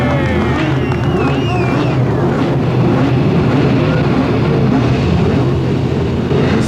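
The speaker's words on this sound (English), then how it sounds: "when those motors crank up at the start of a race" Race car engines roar together at the start of a race, a loud, dense, continuous motor din with rising whines and crowd noise mixed in.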